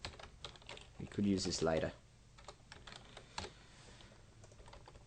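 Soft, close keystrokes from a computer keyboard while Java code is typed, scattered clicks running faintly under a brief spoken remark and continuing alone afterward.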